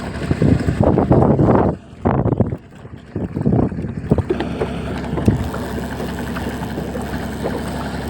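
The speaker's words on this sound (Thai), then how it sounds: "ลมแรงจัด" Strong wind buffets a small boat on a wide river during shrimp fishing, a loud rushing roar with gusty bursts in the first few seconds that settles into a steady blustery hiss.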